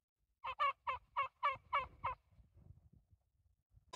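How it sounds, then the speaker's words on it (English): A wild turkey gives a rapid warning call, seven sharp clucking gobbles in quick succession over about two seconds, fairly close and clear, followed by faint rustling in a quiet outdoor setting. "the alpha, or the wiser turkey, saw me slowly approaching and starting to give the call for warning"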